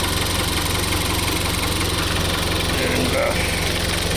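A Jaguar 2.0-liter turbocharged four-cylinder with an 8-speed automatic idles steadily up close, a continuous even engine drone for the whole stretch, with a brief spoken word over it.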